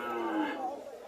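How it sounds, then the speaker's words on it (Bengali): A Mundi-breed cow lows at a village cattle market in Comilla, one drawn-out moo of about a second, close and moderately loud over faint background murmur. "এখানে একটা মুন্ডি জাতের গাভি পাওয়া দেখা যাইতেছে"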